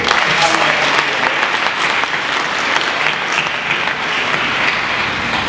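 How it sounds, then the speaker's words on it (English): A young audience at a Freedom Day debate applauds itself, with dense, steady clapping that fills the room from start to finish at a loud, even level. "please give yourself a round of applause"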